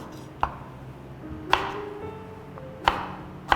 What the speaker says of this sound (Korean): 파프리카도 한 입 크기로 썰어주세요.